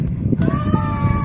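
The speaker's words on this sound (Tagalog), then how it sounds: "Kaso, may pusa!" A cat lets out a clear, drawn-out meow close by, rising sharply and then holding steady over a low background rumble.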